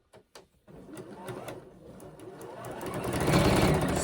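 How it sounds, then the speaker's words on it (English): A sewing machine stitches quilt pieces together for a scrappy rainbow heart quilt, starting after a brief pause and running steadily, its mechanical whir growing louder toward the end. "Sew them down."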